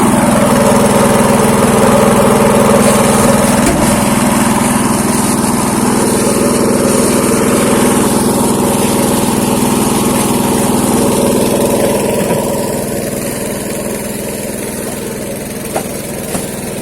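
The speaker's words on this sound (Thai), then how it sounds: "นี่แหละครับอุปกรณ์ลัางรถเครื่องสูบน้ำ" A small engine-driven water pump runs for washing a rice harvester. It gives a steady, continuous drone with no talk and eases slightly quieter near the end.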